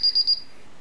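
Three quick high-pitched electronic beeps from a Paradox alarm keypad as the alarm is disarmed, close and clear, followed by quiet.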